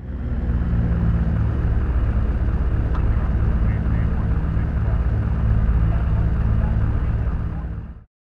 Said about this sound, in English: Now we'll start the engines one at a time.